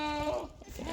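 Sage the goat lets out a loud, close bleat on a small farm at milking time. The quavering cry lasts under a second.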